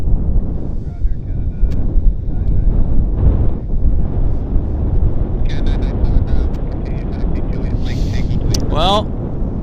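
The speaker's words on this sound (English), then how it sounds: "the wind picked up" Wind blowing across an outdoor airport at Vancouver, a steady broad rushing buffeting the microphone, with faint aircraft and vehicle noise mixed in.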